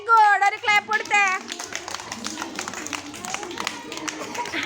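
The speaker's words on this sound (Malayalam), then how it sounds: "4 വെരി ഗുഡ്. ഒരു ക്ലാപ്പ് കൊടുത്തേ" Children clap for a classmate in a classroom number game, with a busy scatter of hand claps after an adult speaks. The claps are moderately loud and near, with voices around them.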